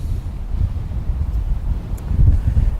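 Steady outdoor wind buffets the microphone with a continuous low rumble that swells slightly near the end, with no voices.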